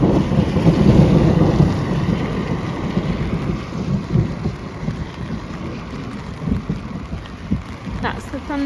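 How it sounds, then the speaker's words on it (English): Thunder rumbles low and steady through a wet storm, with rain pattering on surfaces throughout; the roll is heaviest at the start and slowly eases, with no one speaking. "That's the thunder."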